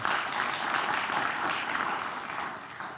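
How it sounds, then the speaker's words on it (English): A studio audience at a junior quiz bowl match applauds a competing school team with a full, even wash of clapping that holds for a few seconds and then begins to taper. "How about another round of applause for the Belvidere Central Blue Thunder?"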